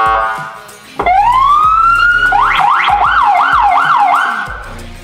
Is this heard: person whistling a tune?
no